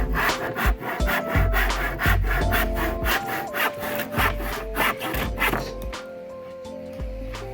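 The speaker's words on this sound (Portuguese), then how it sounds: "E agora é só serrar." A handsaw cuts through the end of a wooden slat held in a clamp, with rhythmic rasping back-and-forth strokes, close and loud, slowing to a stop near the end.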